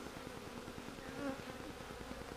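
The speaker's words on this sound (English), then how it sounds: "So there's a bunch of bees standing on the top of the meter, fanning." A cluster of honeybees fanning on top of an electric field meter, giving a steady, close insect buzz with a faint rhythmic pulsing and no voices.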